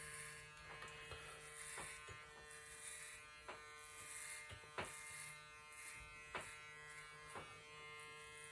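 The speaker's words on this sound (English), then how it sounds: "always just flick your clippers out" Electric hair clippers buzzing steadily while cutting men's blonde hair, a close, continuous motor whine with short pulses and rustles as the blades pass through.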